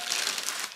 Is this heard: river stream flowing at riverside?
no